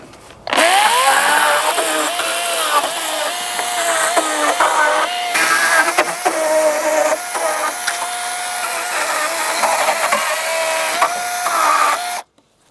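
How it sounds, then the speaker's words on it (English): A small handsaw cuts off the wooden sticker strips from a stacked lumber pile, steady rasping strokes running continuously and close for about twelve seconds, loud and busy with no talk. "I'm going to take my little saw here, and I'm just going to cut these stickers off"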